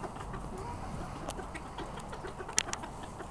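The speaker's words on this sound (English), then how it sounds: "Very pretty little rooster." A small Serama rooster clucks softly nearby in a quiet indoor space, with a few brief, faint clucks scattered over low background noise.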